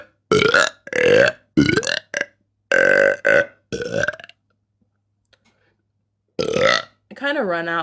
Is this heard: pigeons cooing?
no